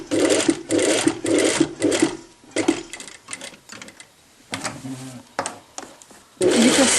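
A sewing machine stitches a blouse in bursts, loud steady whirring runs that stop and restart, with short pauses between seams and no talk.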